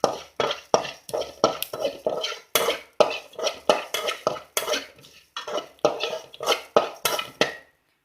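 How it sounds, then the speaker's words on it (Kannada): Fenugreek seeds being dry-roasted and stirred in a pan, a spoon scraping and clattering against the metal in rapid, regular strokes, close up and fairly loud with short pauses, no voices. "ಇದು ಮೆತ್ತೆ ಗೋಲ್ಡನ್ ಬ್ರೌನ್ ಆಗಬೇಕು, ಅಷ್ಟರವರೆಗೆ ಹುರಿಬೇಕು."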